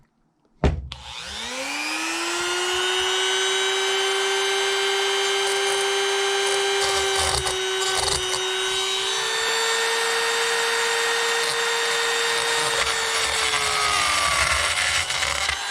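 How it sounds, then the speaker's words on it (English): A power drill spins up sharply and holds a steady, loud high-pitched whine for a long stretch while boring through wood, its pitch shifting slightly partway through. "every time I try to drill down through it"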